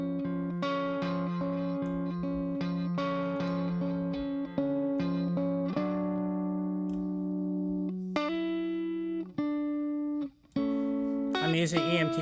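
A guitar part in a mix, processed with tape saturation and sent to an EMT 250 reverb, plays sustained chords and repeated plucked notes with a wet, lingering tail.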